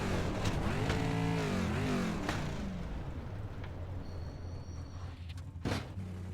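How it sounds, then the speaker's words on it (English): Dirt-track late model and sprint race cars at Charlotte in the iRacing video game, with low-revving engines growling and shifting pitch, moderately loud and continuous, with a few sharp transient knocks. "They're just really low revving."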